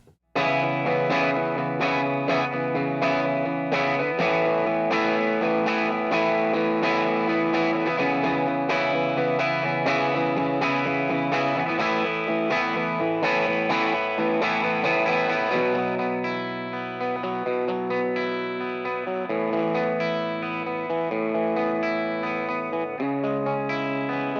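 Clean electric guitar chords ring out with a bright, chiming tone and a slight edge of breakup, played continuously and close through the Vox-style normal channel of a 3rd Power Kitchen Sink 6VEL amp.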